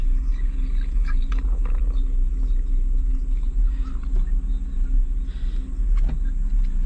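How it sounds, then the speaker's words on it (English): A car engine idles steadily with a low, even rumble and faint mechanical ticks, close by and uninterrupted, with no talking. "Let me turn the car off so you can hear everything."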